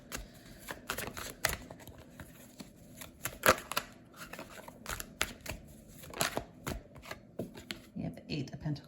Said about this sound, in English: let me pull some cards for you, the person watching